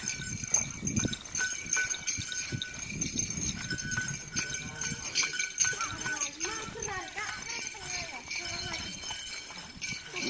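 Hooves of racing bull pairs thud and clatter outdoors on a field during karapan sapi bull-race training, amid crowd noise and people talking, a busy mix of movement and voices.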